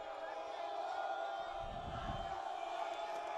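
A home crowd at a Lincoln high school football game cheers and roars in a steady wash of noise that swells briefly mid-clip, filling the stands without distinct words.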